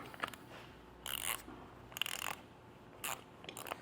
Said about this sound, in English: grab our socket and wrench and loosen this up a bit